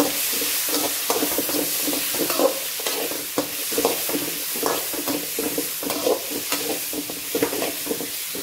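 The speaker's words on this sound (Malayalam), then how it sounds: "ഈ തക്കാളി ഉള്ളിയെല്ലാം ഇട്ട് കൊടുക്കാം ഇതുകൂടെ ഒന്ന് വഴറ്റി വെക്കാം" Tomato and onion sauté in a hot pan for a Kerala-style crab roast, giving a steady sizzle broken by repeated scraping stirs, near and clear with no talking.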